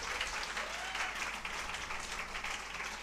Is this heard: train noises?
no